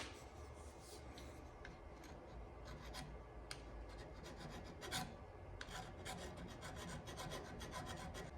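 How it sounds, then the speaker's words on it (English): A lathe coring cutter being honed by hand with a small 600 grit diamond card, a faint, steady rasping scrape that continues without a break from start to finish, heard close and alone. "I like to hit the cutter with my little diamond card. It's a little 600 grit card here."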